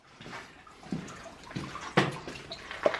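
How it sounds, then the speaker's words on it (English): A small stream of water trickles inside a cool cave along a hiking trail, a soft, uneven splashing and gurgling with brief louder drips, faint and close, with no talking. "I can hear a little water running here in the back."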